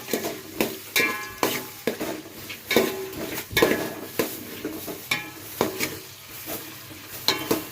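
A ladle stirs rice for bagara rice in a pot, making about a dozen loud scraping strokes against the metal in a steady rhythm over a soft sizzle.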